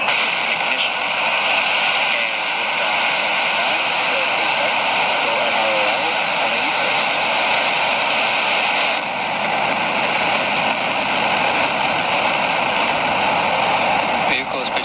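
A SpaceX Falcon 9 rocket launching from Vandenberg gives a loud, continuous, broadband engine roar that holds steady throughout, with a voice speaking over it.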